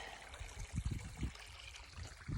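Water in a stream sloshes and splashes as someone wades across on foot during a desert hike, quiet and close, with a few low surging bursts.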